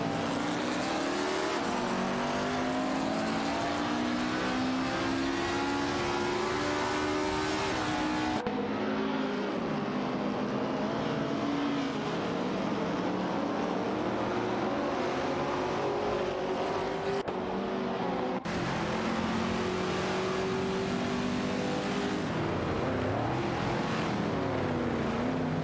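Race cars in an AI racing video game, a continuous loud engine whine rising and falling through gear shifts, steady and close, with no talking.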